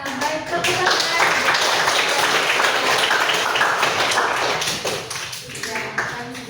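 A classroom of students claps together in a sustained burst of applause, dense and fairly loud, tapering off near the end.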